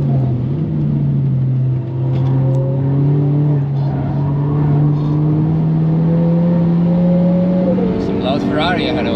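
A 370hp VW Polo WRC engine drones loudly at speed on the Nürburgring, heard from inside the car as a steady, throaty note that climbs gradually before shifting near the end.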